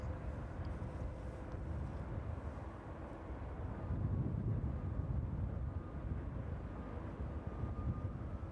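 An aircraft on final approach to runway 27 at East Midlands Airport gives off a distant, low, steady engine rumble that grows slightly louder midway, with faint wind noise and no talking.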